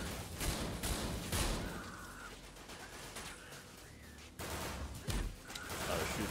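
Shotgun blasts ring out in the video game Severed Steel, several sharp booming shots spaced irregularly among crashing destruction, loud and close with no speech.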